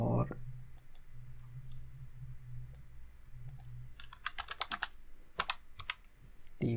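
Code for LED light effects is typed on a computer keyboard in scattered clusters of sharp, close key clicks, with a low hum underneath and a brief burst of speech at the start.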